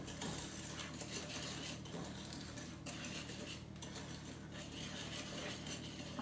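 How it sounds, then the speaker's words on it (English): Cookie batter being stirred by hand in a bowl, a quiet continuous scraping and clicking of the utensil against the dish with no talking. "I'm gonna just give that another mix to incorporate it"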